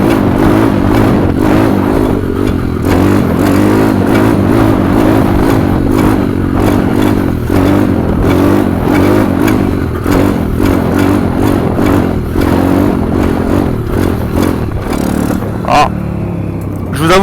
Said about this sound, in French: c'est un peu dangereux quand la moto elle reste un peu accélérée